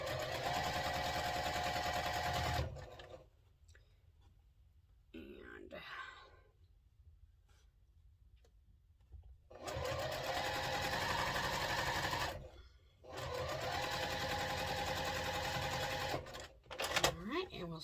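Sewing machine stitching a quarter-inch seam on a bowtie quilt block, running in steady loud bursts of a few seconds each, separated by quieter pauses with faint handling sounds.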